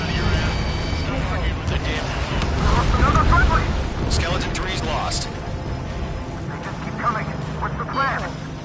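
Missile blast in a combat flight video game: a dense, rumbling explosion roar swelling loud and fading over several seconds, with radio-style voices talking over it.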